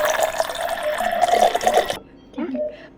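Water is poured in a hospital setting, a steady splashing and trickling stream for about two seconds that stops abruptly, followed by a brief voice.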